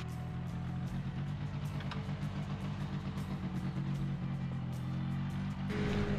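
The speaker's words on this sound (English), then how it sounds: "Had to have her move the car." A car engine idles and moves on a rural property with a steady, close, low rumble that lifts slightly near the end, with no talking.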